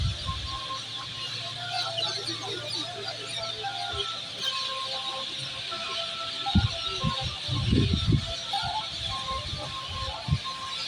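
A large flock of parrots perched in trees keeps up a dense, steady chatter of shrill calls from a moderate distance, with occasional low thumps and rustling nearby.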